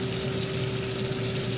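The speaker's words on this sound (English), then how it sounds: "It's frying up nice and pretty" Skinless whiting fish sizzles in hot oil, a dense, continuous crackle at steady loudness with no talk.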